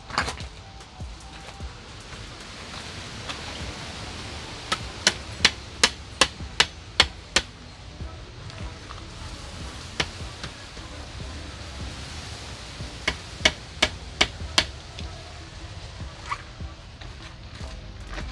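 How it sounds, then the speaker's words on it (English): Two quick runs of sharp hammer blows driving a stake into the ground, about seven strikes each, ring out with a pause between, close by against a faint outdoor background. "I'm gonna get my hammer because I'm gonna need some help to reinforce it in the ground"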